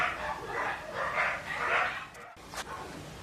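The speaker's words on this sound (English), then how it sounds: "the dogs are barking" Dogs bark and whimper in short bursts a little way off, over a steady background hiss, with a brief break before a couple more yips.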